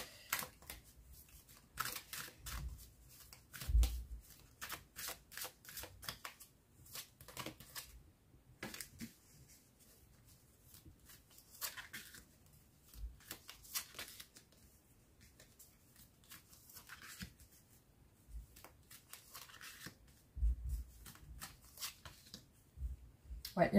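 Tarot cards being shuffled for a reading, a long run of quick riffling and snapping bursts with brief pauses, close and steady, with faint talk in places.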